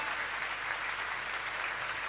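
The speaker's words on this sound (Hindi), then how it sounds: "हाथ ऊपर करके ताली बजनी चाहिए इन पंक्तियों पर।" Audience applause at a Jain religious discourse and Mangal Kalash installation ceremony, hands raised while clapping; a dense, steady wash of clapping that holds evenly for about two seconds.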